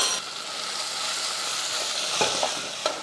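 Onions and tomatoes fry in a pan with a constant close sizzle, broken by a couple of brief stirring scrapes, heard alone.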